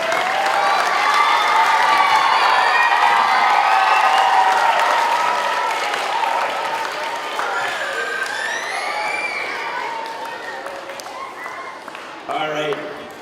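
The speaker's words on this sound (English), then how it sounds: "Round of applause here, one more time." School children at an elementary school Arbor Day event applaud and cheer in a lively burst of clapping that slowly thins out, with excited voices and shouts mixed in throughout.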